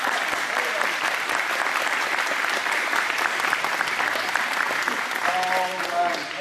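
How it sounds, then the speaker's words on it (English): An audience applauds volunteers on stage at a hypnosis show, steady dense clapping throughout with some voices mixed in near the end. "Give them even more applause."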